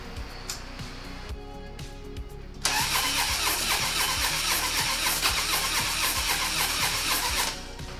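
A Harley Dyna motorcycle engine cranks over and over with a steady, rapid starter rhythm, surging louder partway through as it strains to catch, then dropping back near the end without firing.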